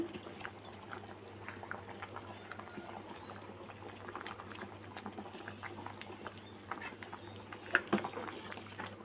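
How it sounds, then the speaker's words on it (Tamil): Moong dal curry bubbles at a full boil in a pot, a faint, continuous patter of popping bubbles over a low steady hum. "இப்போ பாசி பருப்பு போட்டு நல்லா கொதித்து வந்துச்சுங்க"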